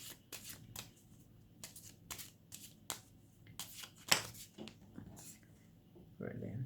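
Tarot cards being handled and shuffled in short papery bursts of riffling and snapping, close and fairly quiet, with brief pauses between handfuls and a faint low murmur beneath.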